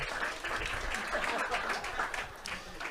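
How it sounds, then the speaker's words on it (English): Applause from attendees at an outdoor spring partnership meeting, a soft, fairly distant patter of clapping with a murmur of voices and possible chuckles mixed in. "if you want to clap"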